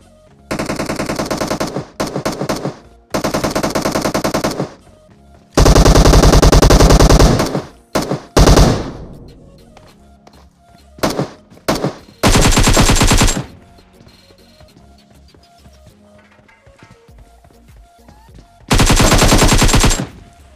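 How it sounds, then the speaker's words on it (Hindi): Loud bursts of automatic gunfire in a battle royale game, rapid rattling volleys separated by brief pauses and quieter background sounds, with heavy sustained fire near the start and again near the end. "तभी मेरे को गन फायरिंग की आवाज़ सुनाई देती।"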